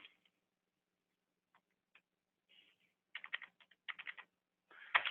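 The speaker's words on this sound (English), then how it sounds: "And so I can type in a number." Number keys tapped on a computer keyboard, a few sparse clicks first and then quicker bursts of crisp keystrokes, close and clear with no talking.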